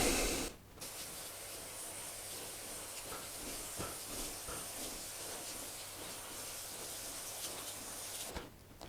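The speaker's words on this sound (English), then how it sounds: "let's go ahead and try this other side now with the other sprayer" A hand sprayer hisses water into a VermiBag fabric worm bin in one steady, close spray that starts abruptly and stops abruptly after about eight seconds, with no talk.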